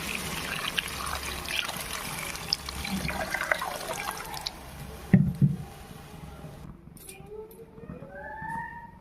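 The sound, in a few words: water poured into cooking pot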